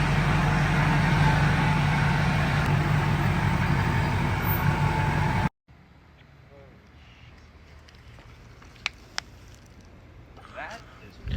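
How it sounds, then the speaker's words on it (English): Duramax diesel truck engine fitted with new fuel injectors, idling with a loud steady rumble for about five seconds, then cutting off abruptly, leaving faint background noise with a few brief clicks. "started it up, these injectors are so much quieter than my factory ones were"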